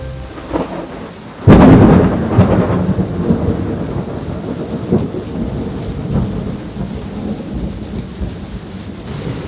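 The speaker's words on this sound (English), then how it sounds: "It's a big storm, man." A Thailand thunderstorm with a loud, close crack and long rumble of thunder over steady heavy rain drumming on surfaces, continuing as a dense wash after the strike.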